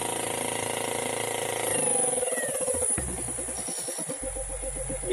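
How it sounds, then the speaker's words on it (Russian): An induction motor driving a rotary tiller, controlled by a frequency drive, rumbles and knocks while running in reverse, with a steady mechanical hum, rhythmic clattering and a shifting pitch as speed changes. "Грохот мотора еще сильнее."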